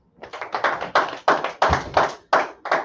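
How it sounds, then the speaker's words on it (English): A small group claps hands together at a religious Sabbath service, with about eight short, separate bursts of claps in a loose rhythm, close and fairly loud with no talking. "All right, clap it up."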